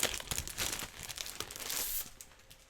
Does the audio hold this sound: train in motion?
no